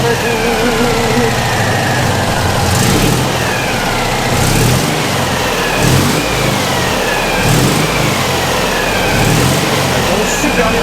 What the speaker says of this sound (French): On essaie de voir si elle redémarre.